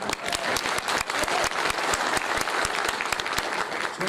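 A crowd at a local political party consultation meeting in Altınözü applauds guests, with sharp, quick claps forming a brisk, uneven patter at moderate distance.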